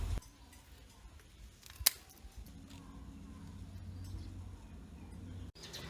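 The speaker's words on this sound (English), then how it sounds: "So we're going to cut it off and make a cutting out of it." A dragon fruit plant stem being cut, heard as one sharp snip after a quiet stretch, followed by low rustling handling noise and a soft thump at the end in a quiet room.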